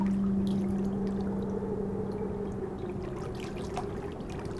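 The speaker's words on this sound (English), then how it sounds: "over it flows warm water a few inches deep" Flowing water in a meditation soundscape, a soft continuous stream and trickle beneath a steady low drone, calm and even throughout.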